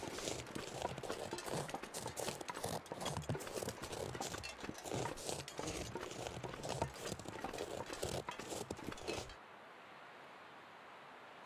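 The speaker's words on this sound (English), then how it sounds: "But I heard footsteps." Footsteps in the survival game The Long Dark, a rapid, steady run of crunching steps through snow that stops abruptly, leaving faint hiss.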